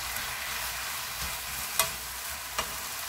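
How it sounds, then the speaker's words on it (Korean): Fish cake stir-fried with chopped green onion and chili in a pan, a steady soft sizzle with two brief sharp scrapes of a spatula stirring, no voices. "파하고 고추 썰은 거다 넣어줍니다. 섞어서 볶아주세요."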